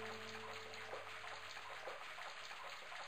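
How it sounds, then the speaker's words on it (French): Water runs steadily from a tap onto a towel in the Broken Sword adventure game, a continuous soft splashing hiss with a faint low hum fading out partway through, quiet and even throughout. "Je maintins la serviette sous le robinet. Elle se gonfla rapidement d'eau."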